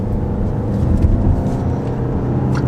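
A 2019 Nissan Rogue with a CVT accelerates gently, its engine holding a steady, droning high-rev hum inside the cabin with no gear shifts.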